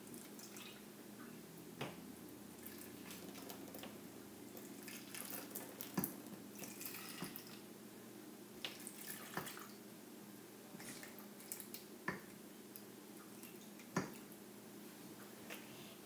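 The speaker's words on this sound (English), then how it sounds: "you carefully pick it up and pour it into the small cups" Liquid jello mixture poured from a pot into small cups, heard as soft scattered drips and splashes over a low steady room hum, with no talking.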